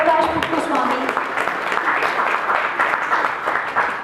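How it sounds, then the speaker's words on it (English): Audience applauding at the close of a conference talk on agile coaching, steady clapping throughout with some voices and talk mixed in beneath it. "please give a huge round of applause to Mr. Jayaprakash Puttaswamy"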